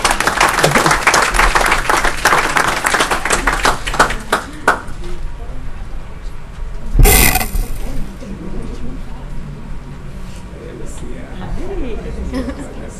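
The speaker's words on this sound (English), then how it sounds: "give her a round of applause, guys" Crowd applause at a council meeting honouring a summer reading award winner: a burst of dense clapping for about five seconds, then it fades into quieter room noise with scattered sounds and a voice.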